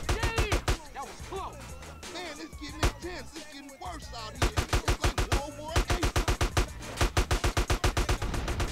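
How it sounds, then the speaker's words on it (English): Rapid bursts of automatic gunfire in Grand Theft Auto San Andreas rattle out in dense rhythmic volleys and pause briefly in the middle, with shouting voices and game noise between the shots. "and now we gotta shoot them"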